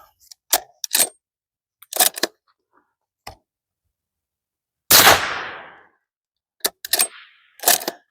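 A Howa MVP rifle fires a supersonic round with a single loud, sharp report and a short decaying echo. Scattered metallic clicks and handling clacks from the action come before and after it.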